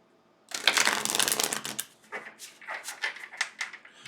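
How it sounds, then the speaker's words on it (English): A deck of tarot cards riffled and shuffled close up, a dense burst of rapid flutter followed by several shorter, choppier shuffles. "One more shuffle, please."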